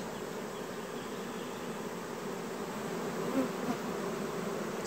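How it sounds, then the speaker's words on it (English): A dense, continuous buzzing of many honey bees at an old hive box fills the air, close and steady, with a few louder individual buzzes passing near. "There's a whole lot of bees in here coming in off the front."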